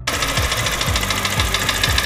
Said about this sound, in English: The engine makes a clear knocking sound,